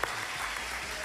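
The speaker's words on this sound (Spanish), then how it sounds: "El aplauso para Mateo." Brief, faint applause from a crowd, a short dense patter of clapping heard at a distance.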